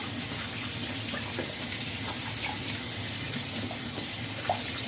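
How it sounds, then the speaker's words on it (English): Steady tap water runs into a sink while a face cloth is rubbed and rinsed beneath it, a constant close gushing flow with faint splashes throughout. "under running water, rub the cloth on itself to release any of the skin particles"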